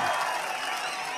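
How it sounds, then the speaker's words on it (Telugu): Audience clapping at a political public meeting in Puttur, Nagari constituency, a dense broadband wash of many hands applauding together, steady and fairly loud throughout with no single claps standing out. "అందరూ చప్పట్లు కొట్టి అభినందించండి వాళ్ళని"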